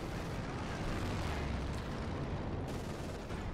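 An ISU-152 assault gun in the Company of Heroes 2 battlefield fires explosive shells, a dense, loud rumbling boom and blast texture filling the whole short stretch without a break, with no voices over it.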